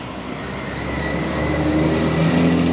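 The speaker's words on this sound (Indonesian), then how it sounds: "Ini ada bus Transjatim ya tujuan Gresik ini dari Porong" A Transjatim bus bound for Gresik passes along a busy road at the Medaeng junction, a loud, rising engine rumble and tire roar building steadily as it nears.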